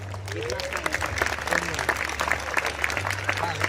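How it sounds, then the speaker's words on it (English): Audience applause at a school event in Pune, steady dense clapping throughout with a low hum underneath, fairly loud and continuous. "One more time, can we have a big round of applause?"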